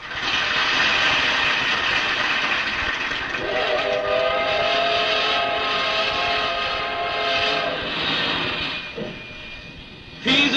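A train sound effect opens the Korean KBS radio quiz show Quiz Train, a loud, continuous rumble with whistle-like tones that fades briefly near the end.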